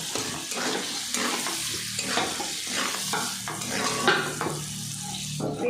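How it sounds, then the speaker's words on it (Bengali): Chopped onions with a bay leaf sizzle steadily in hot oil in a kadai over a high flame while a spoon stirs and scrapes them in repeated strokes, close and moderately loud, with no talking. "এবার হাই ফ্লেমে পেঁয়াজটাকে ভালো করে ভেজে নিতে হবে"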